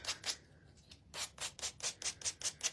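Sandpaper is rubbed along the edges of a heart-shaped key sign, short scratchy strokes close to the mic: two at first, then a pause and a steady run of about nine quick, even passes.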